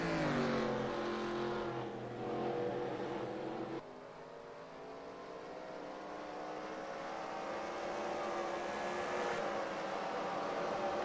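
Stock cars racing on track in NASCAR Racing 2003, a continuous loud engine drone with shifting pitch as cars run single file, steady throughout without pause.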